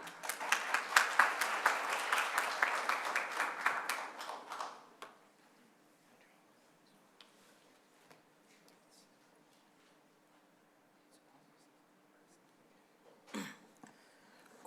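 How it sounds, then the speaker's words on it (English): Audience applause at a conference welcoming a presenter: dense clapping fills the first five seconds, then stops abruptly, leaving near silence with a brief burst of sound near the end. "Please be generous for big applause."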